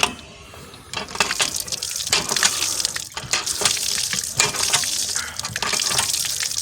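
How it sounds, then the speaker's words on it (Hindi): A hand pump at a mosque is worked by hand, sending water gushing out in repeated surging pulses with splashing, loud and close, with no talk over it. "मैं आपको हैंड पंप चला के दिखाता हूँ"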